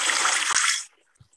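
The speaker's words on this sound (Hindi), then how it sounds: "और एक पानी की आवाज वहां आ रही है।" Water gushing steadily for under a second, close and full like a tap or small stream, then stopping abruptly, with a faint drip after.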